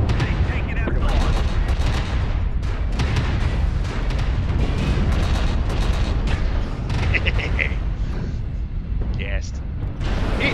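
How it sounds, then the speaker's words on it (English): Ballistic weapons in MechWarrior Online pound away in a dense, continuous barrage of heavy booming shots and rumbling impacts, loud and close, with hardly a gap, while a voice talks now and then beneath the din. "I just almost overloaded from firing ballistics"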